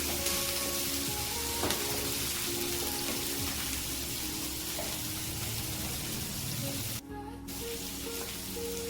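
Garlic, along with small onions and a sliced onion, sizzles steadily in a hot frying pan for a home-style curry, a continuous dense crackle throughout with a brief dip near the end.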